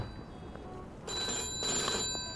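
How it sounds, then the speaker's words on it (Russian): A telephone rings in the video game Mafia II, a bright electronic bell trilling in two bursts over a low background hum, close and clear with no talking. "Так, кто-то звонит."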